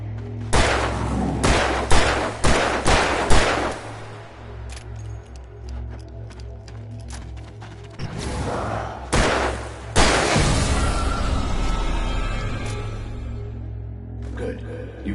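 Gunshots in Alan Wake Remastered, first a quick string of sharp shots, then more loud cracks later among heavy game effects, close and forceful, with a voice speaking in between.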